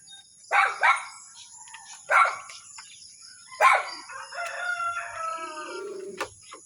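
A dog in a rural residential area barks a few sharp times at a middling distance, with quieter calls and a faint steady high tone between the barks.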